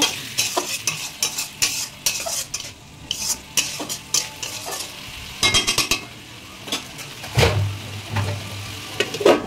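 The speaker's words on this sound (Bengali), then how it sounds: "এবার ভালো করে আমি কষিয়ে নেব" Mutton and papaya stir-fried in a pan with a little water added, a spatula scraping and clanking repeatedly over a soft sizzle, close and up front with no talking.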